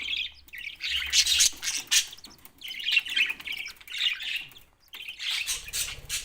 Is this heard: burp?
no